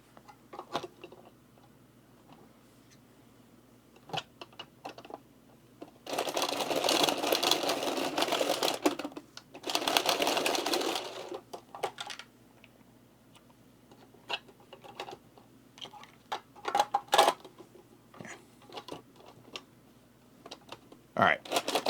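A deck of playing cards is riffle-shuffled nearby in two long, dense fluttering bursts, surrounded by scattered sharp taps and clicks from card handling in an otherwise quiet room.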